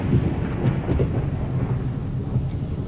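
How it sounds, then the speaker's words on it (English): A thunderstorm sound effect in a children's Bible story, with steady rain and low rumbling thunder rolling continuously and fairly loud, no voices. "God sent a wind that caused a storm that rocked the ship at sea."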